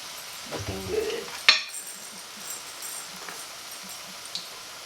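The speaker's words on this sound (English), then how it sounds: "you see that sizzle?" Latkes fry in hot oil with a soft, steady sizzle and crackle, broken by a sharp clink of a utensil against the pan and a few quiet scrapes.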